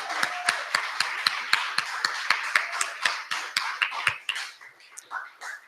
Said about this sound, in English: Uhuru, round of applause,